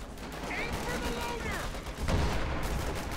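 Gunfire and machine-gun bursts from a Company of Heroes 2 real-time strategy battle crackle at mid distance amid battle noise, with a heavier blast near the end.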